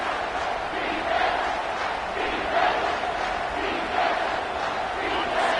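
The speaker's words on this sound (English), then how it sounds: "this crowd is tearing the lid off this place" A stadium crowd in a football video game on PS5 roars continuously and loudly throughout, a dense wall of cheering with a few swelling peaks, no clear talk over it.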